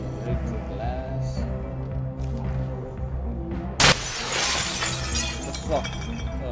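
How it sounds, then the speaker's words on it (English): Glass shatters in the video game Hitman 2, one sudden loud crash followed by a spray of tinkling fragments over steady game ambience. "We can break the glass."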